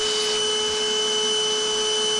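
A vacuum sucks up big chunks of honeycomb during a bee removal from a shed floor, giving a steady, loud, droning whine with a constant pitch throughout.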